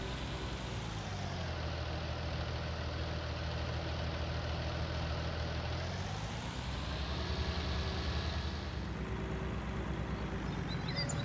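A steady, low engine idle from a Fendt tractor in Farming Simulator 19 rumbles continuously, with a slight drop and rise in pitch partway through.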